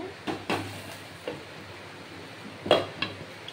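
Metal clatter and knocks from a lid being set onto a cooking pot of aloo dum on the stove, a few sharp clanks spaced over a few seconds against a quiet kitchen background.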